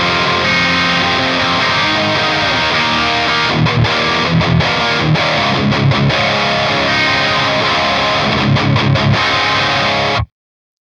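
Infinia Ceres electric guitar on the bridge pickup, driven through a Revv Generator amp, plays heavily distorted chugging riffs with rhythmic palm-muted stops, loud and close, ending abruptly.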